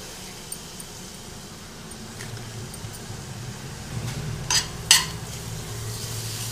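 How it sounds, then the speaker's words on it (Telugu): Salt and sambar powder being stirred into a carrot tempering in a pan: a low, steady sizzle with soft scraping, then two sharp metallic clinks near the end, no voices. "సాంబార్ పొడి వేసి అన్నీ కలిసేటట్టు ఒకసారి కలుపుకోవాలి"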